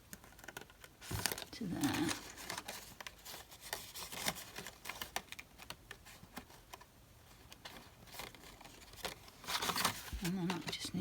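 Scissors snip across craft card stock on a handmade music card with partial die cutting, giving crisp clicks and crinkles, with a person talking close by over the cutting.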